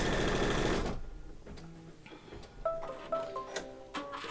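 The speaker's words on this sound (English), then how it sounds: "next we're going to see what this thread can do for satin stitches" An embroidery machine stitching satin stitches for a crazy quilt heart mug rug in the hoop, a loud dense rapid whir at first that drops to quieter, uneven mechanical ticking and clicks.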